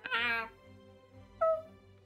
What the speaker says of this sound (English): The matted black cat with the weird eyes.